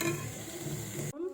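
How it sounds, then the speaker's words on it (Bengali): Stirring khichuri ingredients in a pan, with continuous scraping and faint sizzle for about a second before an abrupt stop. "এবার ভালোভাবে এগুলোকে নেড়ে নেব"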